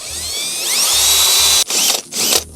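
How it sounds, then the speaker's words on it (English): A power drill bores into a wall to mount a floodlight, a loud high whine that rises in pitch as it spins up, then breaks into several short bursts with brief pauses between them. "So now I'm going to start drilling this in and mounting it."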